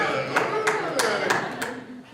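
A handful of evenly spaced, crisp claps ring out in a talk audience, about five slow beats that fade at the end.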